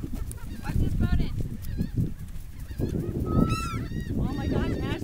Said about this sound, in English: Nah, it's a seagull.